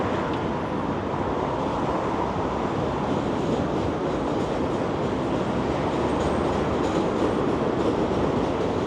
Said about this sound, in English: There comes a train.